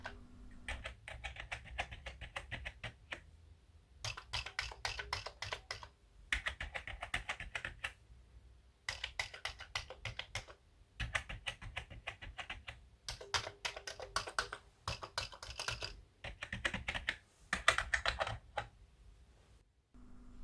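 Mechanical key clicks from an original Commodore 64 breadbox keyboard come in several bursts of quick typing, separated by short pauses. The rapid, close taps play alone with no voices.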